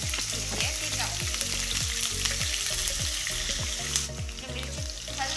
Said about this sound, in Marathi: मिरची हलकी थोडी फ्राय झालेली आहे